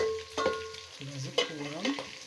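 Pieces of meat fry in a pan until browned, with a close sizzle and stirring scrapes mixed with a few brief tonal squeaks.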